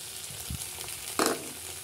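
Ginger and garlic go into hot oil in a pan where onions are already frying, giving a sharp, close sizzling burst that fades back into a soft, steady crackle.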